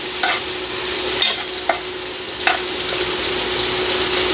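Beef shanks browning in hot oil in a pan give off a steady, bright sizzle throughout, broken by a few soft clanks and scrapes as the meat is stirred or moved.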